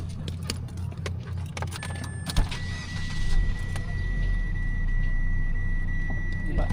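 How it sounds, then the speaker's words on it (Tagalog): A parked car's engine left running to keep the cabin cool gives a steady low idle hum, with scattered clicks and a brief whirring tone, and the rumble grows a little heavier partway through. "pantarin na natin ang ating sasakyan para malamig pa din siya"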